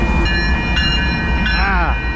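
Train rumbling past at close range, steady low roar with sustained tonal whine and a brief sweeping squeal near the end; a voice is faintly present.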